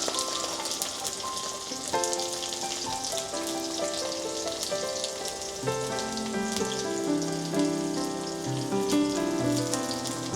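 Garlic and green chilies fry in hot oil as the base for a bhindi sabzi, giving a steady, soft sizzle that runs the whole time beneath background music.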